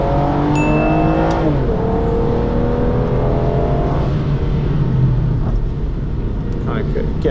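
Aston Martin DB9 on a race track, accelerating out of Druids corner with a loud, close engine drone rising in pitch, a voice talking over it.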